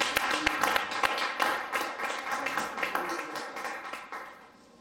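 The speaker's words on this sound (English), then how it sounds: "Let's give them a round of applause for God." A small audience at a youth church show claps, a modest scattered patter of hands, fairly faint, tapering off toward the end.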